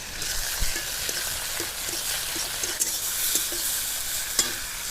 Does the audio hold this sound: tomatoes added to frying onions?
yes